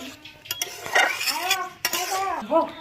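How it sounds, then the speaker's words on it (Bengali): A spoon stirs a vegetarian drumstick curry in a pot right after ghee goes in, making a few sharp metal clinks and scrapes over a soft cooking hiss, with some faint voice-like tones mixed in. "এর মধ্যে আমরা একটু ঘি দিয়ে দিব। একটু নাড়াচাড়া করে নেব।"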